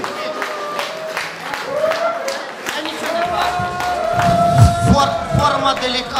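Wedding guests in Perehinsk clapping along amid crowd noise and talk, with rhythmic claps and a tonal musical line running through the noisy room.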